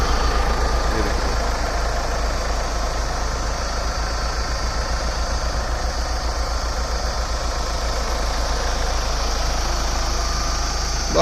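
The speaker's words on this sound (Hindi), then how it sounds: "गाड़ी स्टार्ट है। ये अपना 2100 सीसी का इंजन।" A Mahindra Scorpio's 2100 cc engine idles steadily and loudly up close, a constant low throbbing hum with no talk over it.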